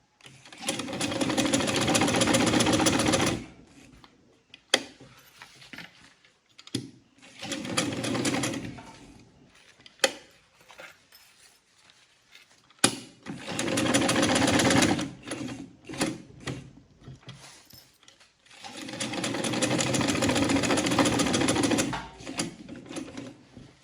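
A sewing machine stitching an Ankara fabric purse runs in several loud, steady bursts of rapid mechanical whirring, separated by pauses filled with handling clicks and fabric rustle.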